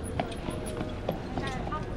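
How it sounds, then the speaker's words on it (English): Hooves of a carriage horse clop on a city street in Belgium, a quick irregular series of light knocks under nearby chatter. "Check out the horse carriage, guys."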